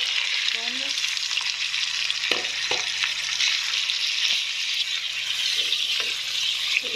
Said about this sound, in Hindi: आपने इसको फ्राई करना है जब तक ये अपना कलर नहीं चेंज कर लेते चिकन।